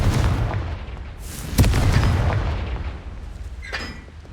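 A Confringo blasting spell goes off in Hogwarts Legacy with a loud booming explosion, a sharp crack near the middle followed by a rumbling tail, over a continuous low game rumble, then a fainter burst near the end.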